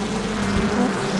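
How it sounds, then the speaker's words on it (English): Buzzing of bees around a beehive in a children's boat-steering video game, a steady droning hum held at an even level throughout, with no voices. "Don't hit the beehive."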